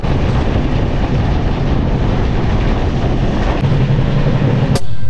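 A loud, continuous rumbling roar of the Tamralipta Express train moving steadily along the rails at about 55 km/h, with no voices, ending in a brief sharp clatter.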